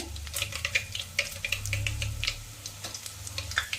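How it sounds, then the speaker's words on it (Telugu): Onions added to garlic frying golden-brown in a pan for tomato chutney, with a steady close sizzle and repeated clicks and scrapes of a spoon stirring against the pan. "ఈ వెల్లుల్లి కొంచెం గోల్డెన్ బ్రౌన్ అయిన తర్వాత మనం దీంట్లో ఎర్రగడ్డలు యాడ్ చేద్దాము"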